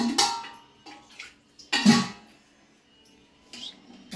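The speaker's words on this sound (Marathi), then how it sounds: "ह्याचा आता छान असं पाणी टाकून घेऊया" Water poured from a vessel into a simmering vegetable curry in a home kitchen, several short splashing pours with pauses between, close and moderately loud.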